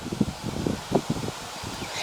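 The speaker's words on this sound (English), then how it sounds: "It is a windy day. It's hot, but it's windy." Gusty wind on a hot, windy day buffets the microphone in uneven, rustling bursts of varying strength, close and fairly loud, with no talking.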